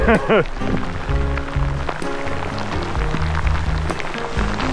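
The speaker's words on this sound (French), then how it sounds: "Ouh, mais là, il pleut fort." Heavy rain falls while cycling along Route 389 near Manic 5 in Quebec, a steady wash of rain noise and road hiss under a voice and other tonal sounds.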